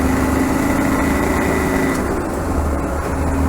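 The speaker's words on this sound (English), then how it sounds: "Oh my god, we're overtaking something in a Land Rover!" A Land Rover 90 engine pulls hard uphill while overtaking, a loud steady drone with constant low rumble and vibration throughout, no voices over it.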